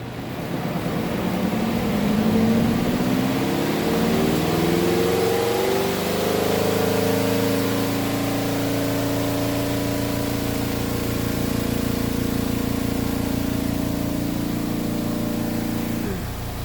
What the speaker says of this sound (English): Close both doors and then spin for 5 minutes.